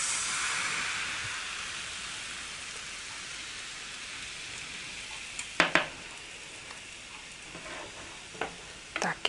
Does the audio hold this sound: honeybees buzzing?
no